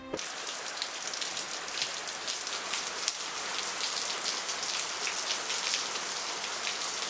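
Rain falls outside in a continuous, even hiss, with dense patter of drops and small crackles scattered throughout at a moderate, steady level.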